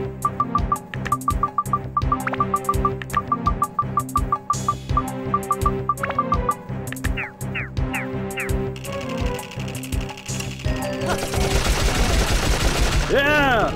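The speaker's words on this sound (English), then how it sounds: "This guy got a good machine gun." Rapid bursts of machine gun fire from the video game Dark Cloud, clipped rhythmic rattles in several runs with short pauses, followed by a louder burst of mixed noisy effects at the end; no voices.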